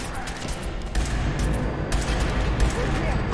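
Gunfire in the video game Fallout 4 comes as sharp, loud shots at about one-second intervals over dense, continuous game noise and rumble, heard close up.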